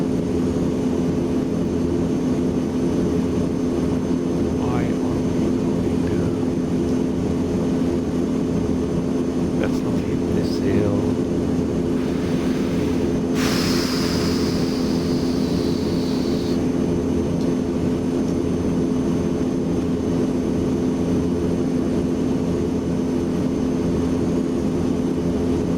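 An aircraft engine drones in Microsoft Flight Simulator 2024 on a flight over Africa. The hum is constant and steady throughout, with a brief brighter tone rising over it midway.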